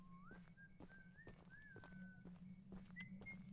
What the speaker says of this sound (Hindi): कोई सीटी बजा रहा है